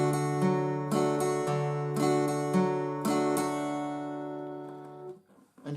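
An acoustic guitar plays an instrumental break in Carter picking, alternating bass notes with brisk down-up strums in a steady rhythm before the final chord rings out and fades, close and clear with no voice.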